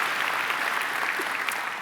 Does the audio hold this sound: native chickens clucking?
no